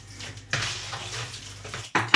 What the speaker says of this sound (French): Je commence à mélanger.